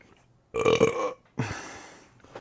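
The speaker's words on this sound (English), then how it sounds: "Oh, so much burping." A loud, close burp after drinking grape soda, followed by a second longer, raspy burp trailing off.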